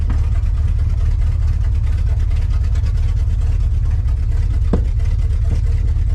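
A 1986 Ford F150 engine running with open headers, a loud, steady low rumble at idle that holds continuously, with a couple of brief sharper knocks near the end.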